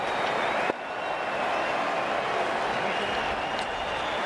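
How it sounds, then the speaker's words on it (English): A stadium crowd in the Cricket 19 video game cheers and applauds during a Nepal versus Bangladesh Asia Cup match, a steady loud roar with a brief dip early on, sustained throughout. "The crowd's on their feet, probably hoping they can catch a six."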